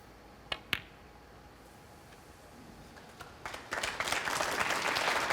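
A snooker crowd at the Champion of Champions breaks into applause after two sharp isolated claps, the clapping swelling from faint scattered hands into a fuller, steady round by the end.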